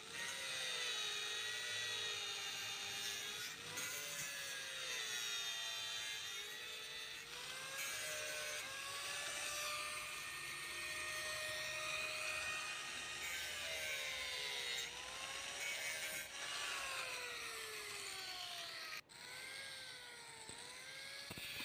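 An angle grinder works steadily over a welded aluminium radiator seam, smoothing the weld with a continuous high whine whose pitch wavers as pressure shifts, loud and close throughout with no talking.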